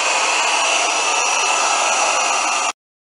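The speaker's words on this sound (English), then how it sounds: "next thing we need to do is heat that up to loosen up the glue." Heat gun or hair dryer blowing on the screen of a 2012 first-generation ASUS Nexus 7 tablet to soften the glue, a loud, steady whooshing hum that cuts off abruptly near the end.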